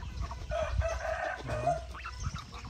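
Geese at a farm pond give off a few honking, clucking calls at middle distance, while someone speaks over them in Vietnamese.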